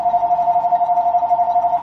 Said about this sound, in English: Phone's ringing. Always seems to ring at the wrong times.